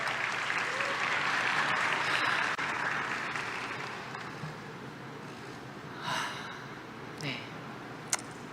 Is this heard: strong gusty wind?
no